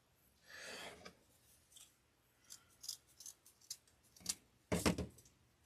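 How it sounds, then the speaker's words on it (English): A pair of brand-new scissors is handled while making a farmhouse rooster deco mesh wreath, giving soft scattered snips, clicks and rubs, quiet and close, with a sharper burst of cutting near the end. "I really do not like those scissors."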